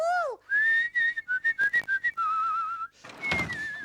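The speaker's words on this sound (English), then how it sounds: "I wish I could whistle." A person whistles a short wandering tune, with some sliding and some held notes broken by brief pauses, loud and close, followed by a breathy, noisy whistle at the end. Nobody speaks.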